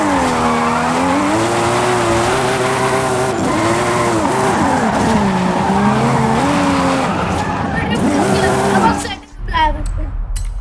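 A Toyota drifting in Forza Horizon 5 at a Mexico drift club event. A revving engine whines up and down over continuous screeching tire skids, loud and close, and cuts off sharply near the end.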